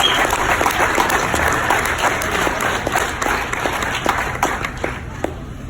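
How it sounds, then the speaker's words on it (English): Steady applause from a crowd fills the whole stretch, dense clapping that stays loud throughout and tapers only slightly near the end. "Round of applause, please."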